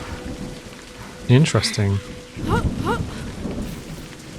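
Rain pours steadily in the video game A Highland Song, a constant soft hiss running beneath a man's brief spoken remarks, with no distinct thunder crack standing out.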